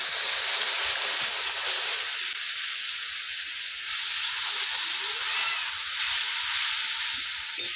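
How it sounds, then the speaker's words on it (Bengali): Water poured onto curry masala frying in a pan for chicken and potato curry bursts into a loud, close steam hiss and sizzle that settles into a softer, steady bubbling simmer. "মশলাটা যাতে না পুড়ে যায় সেই জন্য আমি দিয়ে দিচ্ছি জল"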